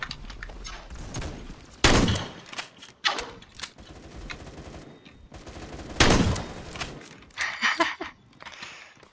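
Shots from the banana gun in Phantom Forces ring out in a few sharp bursts, with two especially loud blasts about four seconds apart and quicker, lighter shots near the end, against low background game noise.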